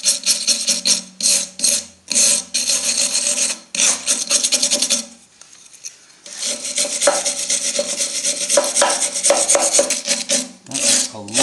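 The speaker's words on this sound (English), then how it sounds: "Brush all this crap away from it." A hand wire brush scrubs corrosion off a steam press in rapid, harsh, raspy strokes close by, with a short pause midway before the scrubbing resumes.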